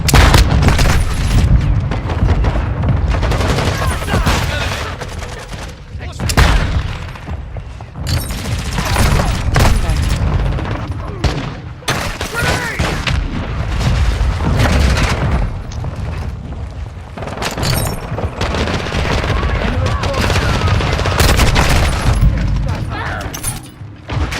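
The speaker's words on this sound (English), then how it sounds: "Hostile mortar strike in the area." Mortar strike explosions in a first-person shooter game, a dense, loud, continuous barrage of booms and blasts running throughout, with game voice callouts mixed in.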